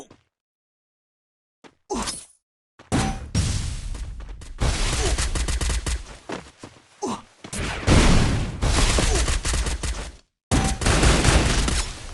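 Gunfire in the video game Free Fire, loud bursts of rapid automatic shots separated by brief silences, close and dense, repeating several times across the clip.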